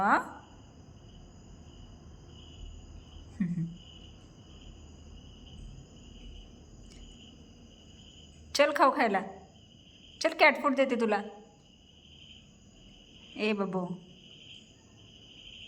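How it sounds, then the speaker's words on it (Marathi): Crickets chirp in a steady high trill throughout a quiet night, while someone speaks in short bursts close by. "रातकिडे केवढ्याने किरकिरतायत, केवढा जोरात आवाज येतोय."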